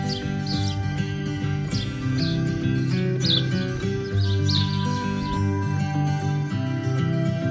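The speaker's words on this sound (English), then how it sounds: "Check out the birds here" Birds at a park lake in Mercer County Park, Central New Jersey, chirp in short repeated bursts over a constant droning background sound.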